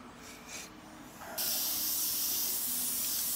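Spray paint hisses in a loud, steady, close burst over a painted portrait, starting after a moment of quiet room tone and continuing unbroken to the end.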